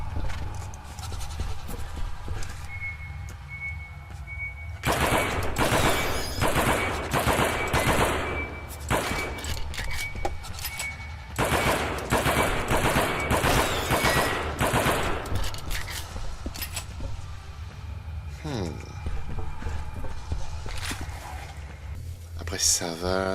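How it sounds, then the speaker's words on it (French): Rapid bursts of gunfire in the video game Alien vs Predator, loud clusters of shots repeating across the clip, with someone talking in French over and between them. "je t'ai défoncé à coup de fusil à pompe"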